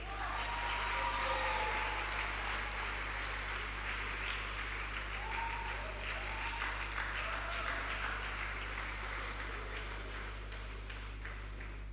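Audience at an educational forum applauding to welcome an alumnus speaker, a sustained wash of clapping, fairly distant and soft, over a constant low hum.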